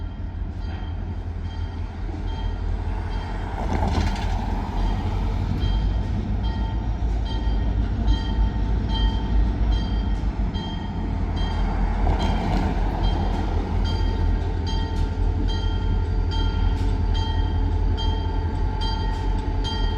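Freight train rolling past near the Ironwater Fire Department, a loud continuous rumble of wheels and cars close by with metallic clatter and a couple of brief horn-like swells.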